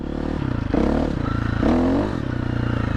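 A KTM 350-500 EXC dirt bike with an aftermarket ECU upgrade is ridden, its engine burbling at steady revs, then revving up in two short loud bursts with some clatter before settling back.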